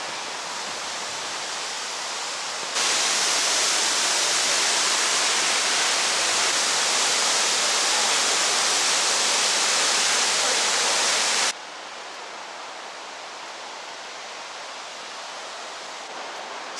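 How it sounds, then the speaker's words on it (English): Steady, loud rushing roar of Multnomah Falls, a 620-foot waterfall in Oregon's Columbia River Gorge, continuous and broadband, with the level shifting partway through. "This is the tallest waterfall in all of Oregon."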